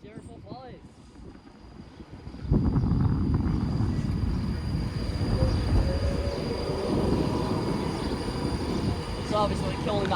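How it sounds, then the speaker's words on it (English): A Pendolino train roars through Stafford station at speed, its loud rumbling and rushing building suddenly and holding steady with faint wheel squeal, while a person talks nearby. "Departing onto right and the arriving Pendolino. No, it's passing."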